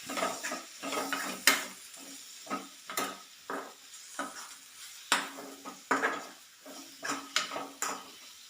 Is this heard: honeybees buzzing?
no